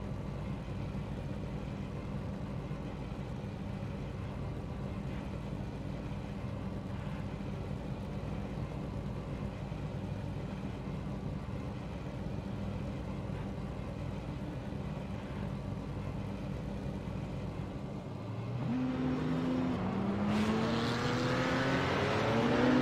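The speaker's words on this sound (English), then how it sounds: "All the drivers start rolling for their pace lap." GT3 race cars on a pace lap at Road America hum as a steady, moderate engine drone, then revs climb in rising sweeps as cars accelerate near the end.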